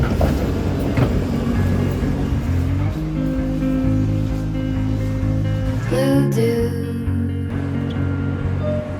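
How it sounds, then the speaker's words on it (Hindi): Interior of a BRB RE5 regional train running from Munich Hauptbahnhof toward Salzburg. Loud, steady rumble and humming motor tones shift pitch partway through, then a rattling, whooshing swell builds briefly before the cabin settles back to its drone. "अब हम ट्रेन में बैठ गए हैं। ये BRB RE5 ट्रेन है"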